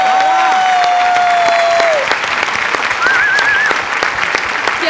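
A studio audience at a Marathi comedy show bursts into loud, sustained clapping lasting several seconds, with a faint tonal music cue sounding over it.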